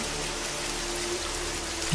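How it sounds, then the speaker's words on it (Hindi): Heavy morning rain falls in a village as a dense, even hiss of drops hitting surfaces. The downpour is close and steady, with no voices over it. "अगली सुबह बारिश और तेज हो गई"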